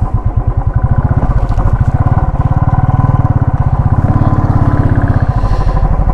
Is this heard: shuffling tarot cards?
no